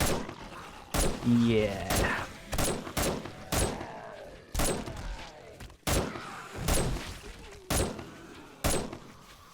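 Gunfire in the video game 7 Days to Die on an insane-difficulty horde night, a dozen loud, sharp shots at uneven intervals, with a brief spoken word and some creature noise between them.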